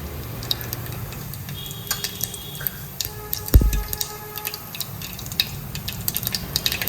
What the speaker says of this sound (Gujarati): તેલ ગરમ થઈ જાય એટલે ગેસની ફ્લેમ ધીમી કરીને રાઈ જીરાનો વઘાર કરવો